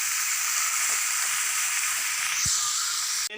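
Grated coconut stirred into spinach and unripe plantain frying in a pan, a steady close sizzle with soft scraping strokes and a single knock near the end.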